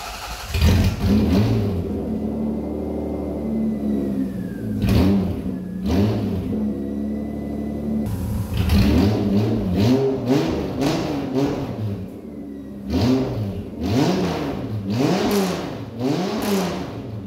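A Toyota MR2 engine, newly fitted with a timing belt and water pump, runs and revs repeatedly, its pitch rising and falling in a series of loud, close surges with brief settles between them.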